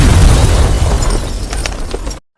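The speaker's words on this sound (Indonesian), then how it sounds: "rumah tersebut meledak yang pemantiknya berasal dari remote TV yang Rishi pencet dari luar rumah." A house blowing up in a film scene, set off by a TV remote: one loud, sustained blast with a heavy low rumble and debris crackle that cuts off abruptly into silence.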